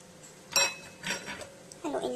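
Durian cheesecake batter of flour, sugar and baking powder being mixed in a bowl, a few distinct clinks and scrapes of a utensil against the bowl, close and fairly quiet.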